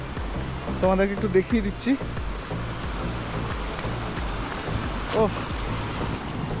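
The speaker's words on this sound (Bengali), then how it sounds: "এখান থেকে জলটা নেমে নিচে যাচ্ছে একদম সোজা" At Jogighat, water plunges straight down a waterfall, giving a steady, broad rushing roar with wind buffeting the microphone as someone speaks briefly over it.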